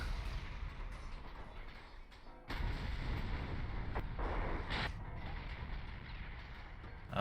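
Naval gunfire in the warship game Ultimate Admiral: Dreadnoughts, with a heavy broadband roar of guns and battle noise that swells sharply partway through and stays loud, marked by a few brief, sharper blasts.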